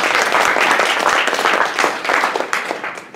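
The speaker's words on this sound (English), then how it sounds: "if we could give a round of applause for our lovely panel" An audience applauding a panel at the close of a college discussion on inclusive spaces for students with disabilities: loud, close, sustained clapping from many hands, tapering slightly toward the end.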